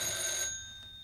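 A telephone rings at night, heard as a bright electronic ringing tone that cuts off after about half a second, leaving a quiet room.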